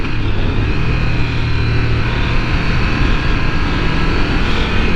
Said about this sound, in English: I'm easily revving it out to 40-45 miles an hour in first gear